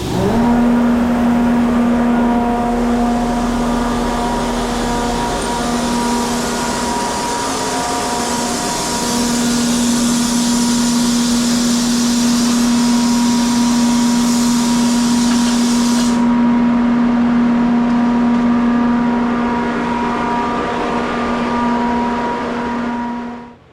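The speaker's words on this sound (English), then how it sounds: "Let's turn on the exhaust fan in here and get rid of some of the steam." An exhaust fan runs in a workshop where a diesel Samurai engine is being worked on, a loud steady whir with a constant hum that holds throughout before cutting off abruptly at the end.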